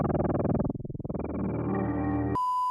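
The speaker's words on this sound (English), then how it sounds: "Auto filter, and you mess around with the filter frequency, and then you just have to turn the rate up." A synth tone sweeps through an Ableton Live Auto Filter wah effect, pulsing rapidly as the cutoff dips and rises, then cuts abruptly to a clean steady tone.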